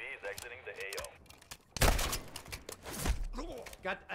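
Gunfire in the DMZ video game cracks out in a burst of loud shots midway, following player voice chat and continuing under more talk.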